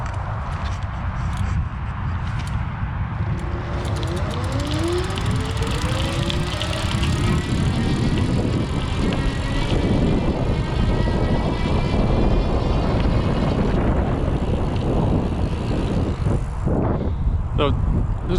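An Espin Sport e-bike's geared rear hub motor whirs steadily under heavy, continuous wind rush while riding, the motor whine rising slightly in pitch as speed builds, with a rider speaking over it.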